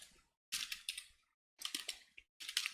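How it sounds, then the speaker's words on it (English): Quiet keyboard typing at a computer, with short bursts of quick key clicks broken by brief silent gaps, close and soft. "If I can type title"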